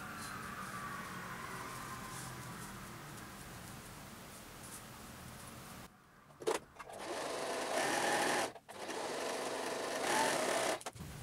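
A sewing machine stitches a zipper onto a garment, running in two or three loud bursts with short pauses between them after a stretch of quieter room noise.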